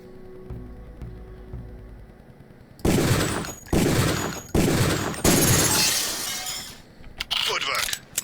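Gunshots ring out at a target practice range in the Deus Ex video game, several loud sharp bursts in close succession with shattering, breaking impacts, preceded by a quiet hum.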